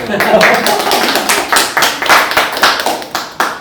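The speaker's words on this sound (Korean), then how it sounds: "박수 한번" An audience at a village media gathering claps in a burst of uneven, moderately loud hand claps that fade and return, with voices talking over it.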